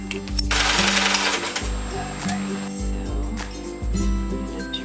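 An electric sewing machine stitches across fabric pieces for handmade bows in short, close, whirring bursts separated by brief pauses, with faint background noise.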